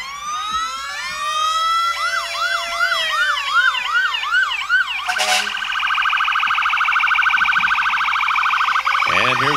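Siren of an old Clay City Fire Protection District fire truck passing in a Halloween parade in Flora, Illinois: a loud, near wailing siren with rapid warbling sweeps, switching to a steady high tone partway through.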